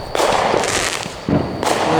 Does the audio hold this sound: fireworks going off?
yes